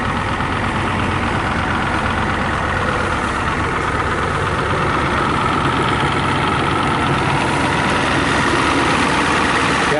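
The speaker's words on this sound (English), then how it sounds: "These IDI diesels aren't supposed to sound this loud." Cold IDI diesel truck engine idling loudly with a constant rattly, knocking clatter, close up and steady throughout, no voices over it.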